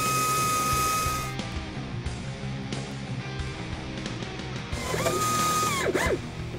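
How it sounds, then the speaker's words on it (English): A power drill whirs steadily and close, enlarging a pilot hole to 7/8 inch in a 1965-1968 Ford Mustang car door, grinding through metal with a constant mechanical buzz that surges and shifts in pitch near the end. "Now that we have our pilot hole drilled, we're going to open it up to 7/8."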